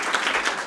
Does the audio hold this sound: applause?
yes